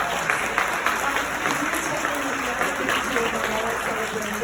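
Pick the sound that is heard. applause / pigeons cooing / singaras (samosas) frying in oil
applause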